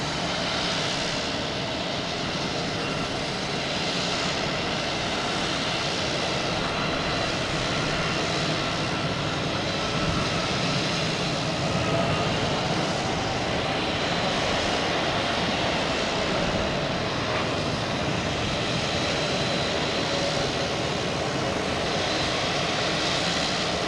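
A Southwest jet airliner at Boston Logan Airport, a loud sustained engine roar that holds steady for the whole stretch with a slowly shifting rumble, close and unbroken.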